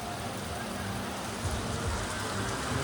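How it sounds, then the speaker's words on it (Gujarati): Heavy evening rain pours steadily in a Gujarat village, a constant broadband hiss of drops on surfaces that holds at an even level throughout without pauses. "મિત્રો 7 વાગ્યા છે અને વરસાદ ફૂલ ચાલુ હોય જોઈ લો તમે."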